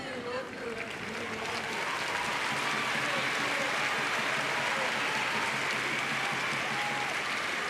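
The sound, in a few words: crowd applauding at para judo match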